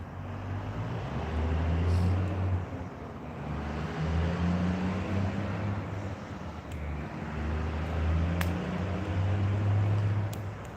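Dump trucks running nearby on a Saturday night, a low rumbling engine drone that swells and fades continuously over distant traffic-like noise.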